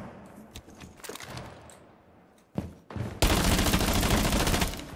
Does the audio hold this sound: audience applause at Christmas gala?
no